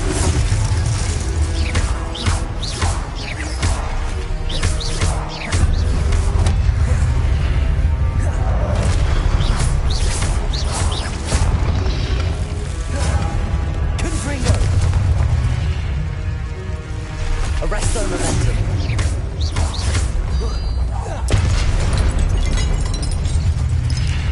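Confringo fire-blast spell battle in Hogwarts Legacy, with dense, continuous booms and crackling bursts that pound without letup, loud and close, and crashing mechanical clatter layered through them.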